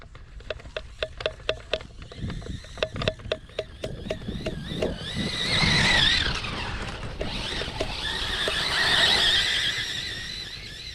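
Hoabo Hyper TT big-block brushless RC off-road car tearing across grass: a rapid series of ticking clicks, then rising high motor whines that swell and fade as the car speeds near and away.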